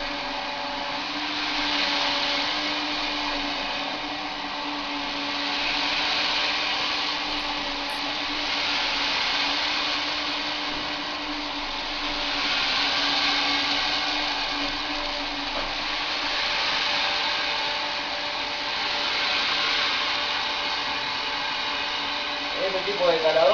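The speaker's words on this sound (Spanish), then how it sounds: "regulan el aceite interno de la máquina por medio de mangueras. Entonces es un ruido tan grande que por eso la cabina tiene que estar aislada." A hydraulic grain sampling probe machine runs with a loud, steady whirring roar and hum that swells and eases slowly, close up, with faint talking beneath the drone.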